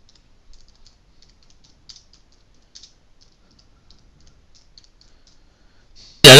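Light, quick keystrokes on a computer keyboard tap out a short text in an irregular rhythm. The sound is faint and close, and a sudden loud burst cuts in at the very end.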